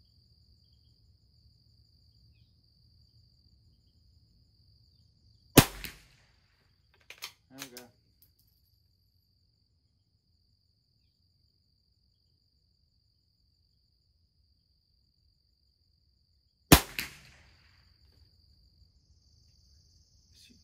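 Two sharp, isolated .22 LR rifle shots from a Christensen Arms rifle crack close by, several seconds apart, with a few small clicks between them over a faint outdoor insect hum.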